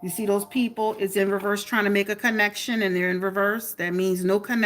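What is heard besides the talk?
No everyday noises stand out.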